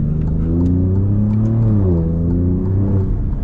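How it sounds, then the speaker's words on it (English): An Alfa Romeo Giulia Quadrifoglio Nurburgring edition sports sedan engine revs up with a deep, throaty exhaust note, rising and settling in pitch, loud and close with no talking. "So this one you hear more exhaust, the M3 you hear a turbo."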